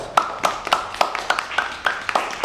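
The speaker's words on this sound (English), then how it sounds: "I want you to go ahead and give yourself a round of applause" Clapping at an orientation session: a few people clap in crisp, evenly spaced strokes, close by and moderately loud, with quiet gaps between the claps.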